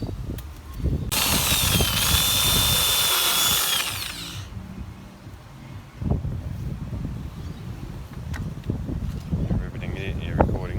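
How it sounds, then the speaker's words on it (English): A power drill whines loudly for about three seconds while drilling holes for post cap solar lights, then stops, followed by handling clatter, wind buffeting the microphone and a person speaking. "Now time to drill the holes."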